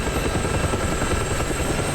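Helicopter hovering low in the DCS combat flight simulator, a loud continuous rotor and engine drone with steady rhythmic chop, close and unbroken.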